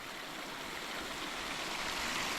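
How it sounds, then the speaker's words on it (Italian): A small mountain stream near the source of the Arno, at Capo d'Arno on Monte Falterona, trickles and burbles in a steady, soft wash of running water, with no voices over it. "Pensare che quest'acqua, questo fiumicello qua poi diventa l'Arno e arriva a Firenze."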